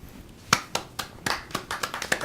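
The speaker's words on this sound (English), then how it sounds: "I clap too." Hand clapping from one person at a tabletop role-playing game session, a quick run of about a dozen sharp, close claps in a loose, uneven rhythm with no talking.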